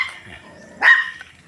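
A single sharp bark from a puppy in a backyard, one brief yap near the end over quiet surroundings, with a faint whine before it.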